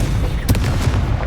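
Sharp, loud blast from the Confringo spell in Hogwarts Legacy, a sudden burst with a booming body and quick trailing crackles over a rumbling background.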